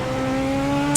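A NASCAR Legends race car engine in the iRacing sim, held against the rev limiter on the small Charlotte oval: a loud, steady, buzzing engine drone that holds one pitch for the whole second.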